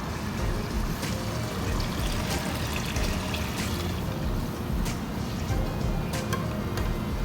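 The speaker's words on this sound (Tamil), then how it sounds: "தண்ணி ஊற்றிக்கலாம்." Water is poured into a pot of sardine curry, a steady, close splashing and trickling that runs unbroken and fairly loud with no talk.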